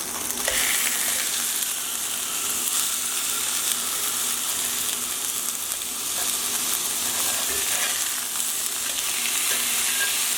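Chicken frying in a pan, a steady close sizzle filling the whole stretch with small scraping and stirring noises on top and no talking.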